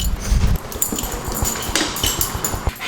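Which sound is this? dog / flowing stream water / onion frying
dog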